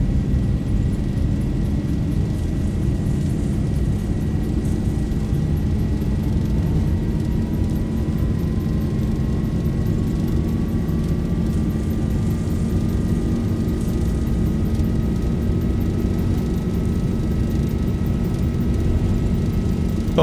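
A Boeing 737-800 rolls down the runway for takeoff in a flight simulator game, with a loud, steady engine roar and a faint whine rising slowly in pitch as speed builds, and no speech.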